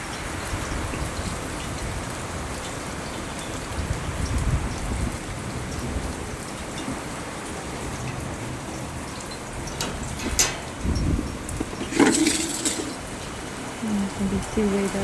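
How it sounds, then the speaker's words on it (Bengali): Heavy monsoon-style downpour with a dense, steady hiss of rain on surfaces throughout, loud and close, with a few brief louder bursts near the end and possible faint distant thunder. "খুব মুষলধারে বৃষ্টি নেমেছে।"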